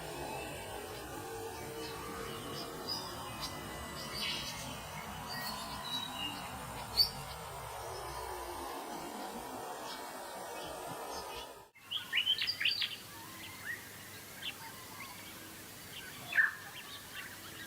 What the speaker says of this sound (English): The star finch is a seed-eating bird species found in northern Australia.